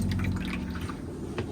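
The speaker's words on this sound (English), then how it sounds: "You'll get a flow of water into the bowl." Water gurgles and trickles steadily into the toilet bowl of a 2025 Swift Voyager 510 caravan, a brief, close, continuous flow.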